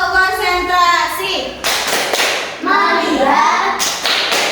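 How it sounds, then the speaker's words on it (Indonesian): A class of fourth-grade children performs a rhythmic concentration clap, with sharp clustered hand claps in bursts alternating with a group of young voices chanting, fairly loud and close in a classroom. "Tepuk konsentrasi."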